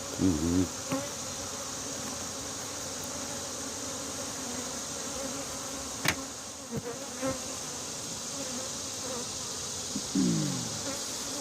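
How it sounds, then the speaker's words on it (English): A dense, steady buzz of many honeybees swarming close by around their hive, continuous throughout with occasional soft knocks and movement. "There's a lot of bees."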